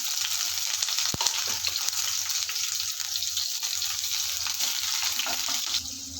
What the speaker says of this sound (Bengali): তেল গরম হয়ে গিয়েছে, কেটে রাখা পেঁয়াজ ঝাল দিয়ে দেবো।